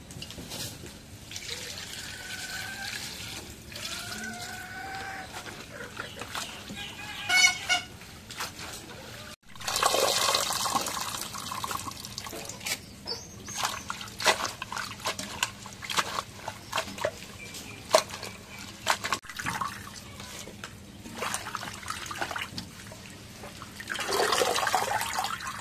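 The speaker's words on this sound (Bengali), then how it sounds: "শাকটা এখন ধুয়ে নেই" Tap water running and splashing over leafy greens (mara shak) being rinsed by hand, an intermittent close trickle and gush with bursts of heavier flow and handling noise, no talk.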